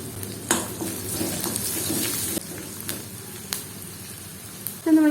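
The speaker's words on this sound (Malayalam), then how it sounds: "കറിവേപ്പില ഇട്ട് കൊടുക്കാം." Curry leaves dropped into hot oil with mustard seeds and onion, sizzling and frying steadily as a utensil stirs and scrapes the pan, with a louder crackle near the end.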